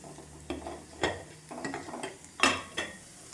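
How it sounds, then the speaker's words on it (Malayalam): Cumin seeds crackle in hot oil in a pan, a scatter of sharp pops and small sizzling bursts at uneven intervals, close and fairly loud, with faint clinks of a stirring utensil and no talk. "ജീരകം പൊട്ടും കേട്ടോ"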